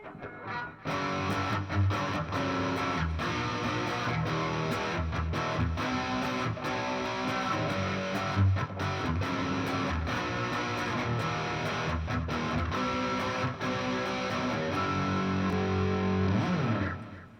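Distorted electric guitar played through an amp, chugging riffs with sustained chords, loud and continuous for the whole stretch, no talking.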